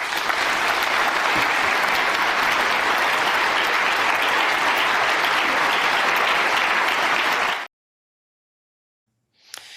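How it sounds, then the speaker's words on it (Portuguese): Strong, sustained audience applause after Marco Rubio's speech in Munich, dense and loud for over seven seconds before cutting abruptly to silence. "Eu especificamente pedi que a produção deixasse esses aplausos aí no final, que foram muito fortes"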